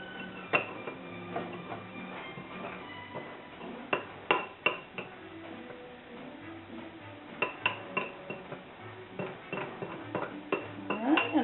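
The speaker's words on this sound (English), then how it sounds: "we're just going to mix that together until all your crumbs are coated" A spoon scrapes and clinks against a bowl while graham-style crumbs are stirred into melted butter, giving irregular close knocks and taps over a soft scraping background.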